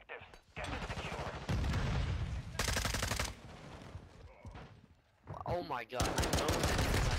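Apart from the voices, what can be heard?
gunfire in the video game Modern Warfare II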